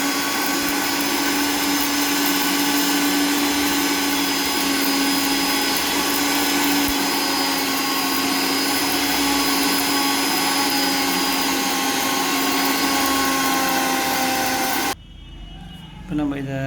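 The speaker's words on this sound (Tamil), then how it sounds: "இதெல்லாத்தையும் நம்ம வந்து ஒரு மிக்சரில் போட்டு பொடி பண்ணுறோம்." An electric mixer grinder whirs loudly and steadily while grinding dried hibiscus flowers into powder, holding one continuous high-pitched drone before cutting off abruptly near the end.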